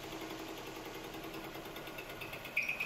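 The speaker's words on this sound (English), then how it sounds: "crank the engine and let it to be idle" An engine idles steadily during an in-cylinder pressure transducer test, a faint, even mechanical hum with a soft rhythmic pulse heard from nearby and no voices.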